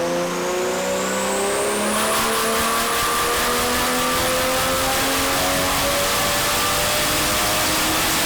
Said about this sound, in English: you could hear the engine doing this weird pulsing sound